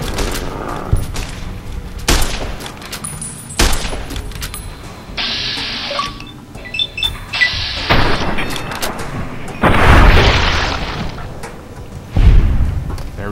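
Gunfire in Fallout New Vegas: a series of sharp shots spaced irregularly across the clip, some booming and heavy, mixed with other game sounds and effects.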